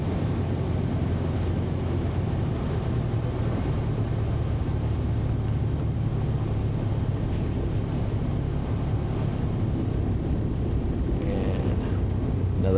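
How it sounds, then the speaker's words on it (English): A Wittman Tailwind light airplane makes a wheel landing, with a loud, steady roar of engine and rushing wind that stays constant and close throughout, without speech. "really nice wheel landing there"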